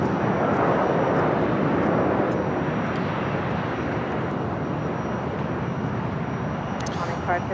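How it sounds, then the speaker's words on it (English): A Virgin Atlantic Airbus A350-1000 arriving from London Heathrow lands at Los Angeles LAX, its loud, broad engine roar steady and close throughout, with a voice talking over it. "It's Virgin Atlantic Flight 7 coming in from London Heathrow on the A350 1000."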